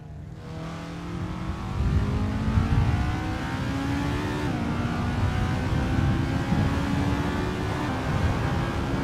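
Formula race cars in Assetto Corsa, on the Lake Garnett track, whine steadily at high revs with pitch shifts as gears change, a continuous loud engine drone with no talk over it.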